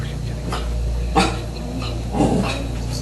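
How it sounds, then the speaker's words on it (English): A dog gives a few short, close yips and soft barks, two sharper bursts standing out over a steady low indoor hum. "What are you barking at, Zoe?"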